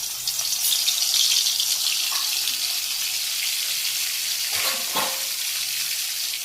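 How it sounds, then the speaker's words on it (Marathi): Garlic and coriander paste frying in hot oil in a heated kadai for tempering, a steady loud sizzle running throughout with brief stirring scrapes near the end. "लसूण आणि कोथिंबीर वाटलेली आहे ते टाकून घेऊया फोडणीसाठी"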